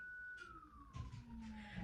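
An ambulance siren sounds faintly outside, a single wavering tone that slowly falls in pitch as it passes, under quiet background rumble.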